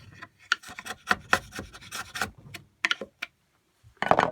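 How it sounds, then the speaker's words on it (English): A wood chisel, held on its side, pares a joint to depth for a wooden spice rack. Short, close, scratchy rasping strokes come in an uneven rhythm with brief pauses and no talking. "You can use the chisel on its side. Just carefully get that depth."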